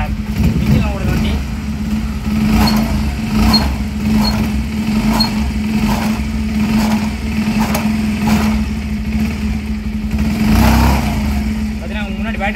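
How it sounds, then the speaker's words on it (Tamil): A petrol-electric hybrid Pulsar motorcycle runs nearby with a steady loud engine hum and light rhythmic revving, while a person talks over it throughout. "அதான் உங்களுக்கு இப்போ இன்ஜின் ஓடுது வண்டி."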